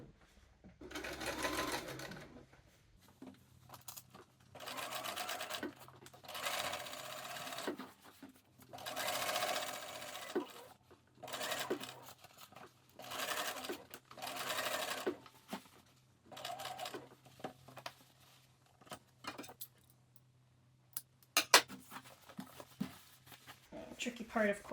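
Sewing machine topstitching the diamond hem of a pair of trousers, a close, steady whirring in repeated bursts a few seconds long separated by pauses, with someone speaking between and over the runs.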